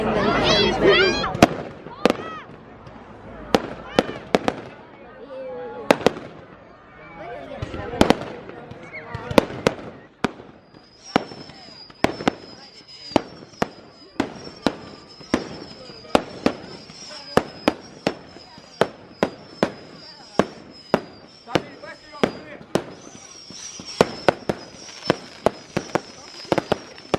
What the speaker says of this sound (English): So, fireworks in the background.